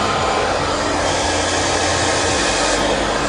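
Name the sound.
hair dryer blow-drying hair with a round brush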